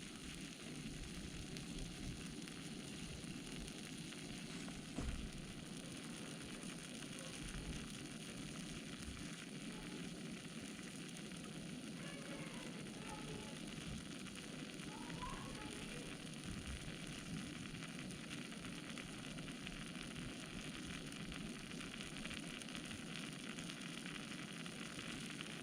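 A saturated solution boils on a lab heater with a faint, steady bubbling hiss that stays even throughout, with a few soft pops and no talking.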